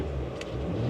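A Ford pickup truck's exhaust in sport mode gives a short, deep engine rumble, fairly close and steady, swelling slightly toward the end.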